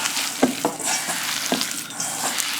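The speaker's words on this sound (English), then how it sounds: "the best way to mix this up is with your hands" Hands mixing meatza ingredients with Parmesan cheese in a bowl, a steady wet squishing and stirring texture with soft irregular squelches, close and continuous, with no voices.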